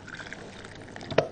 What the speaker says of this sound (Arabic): عايزه ازود شويه ميه.